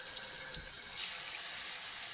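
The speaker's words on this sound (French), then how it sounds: "Si on a à l'évier, on met le jet qui flotte fort." A strong jet from a kitchen sink tap pours steadily into water over tomato seeds, a continuous close hiss and splash that swells slightly partway through.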